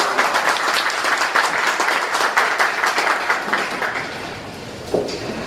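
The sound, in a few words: audience applause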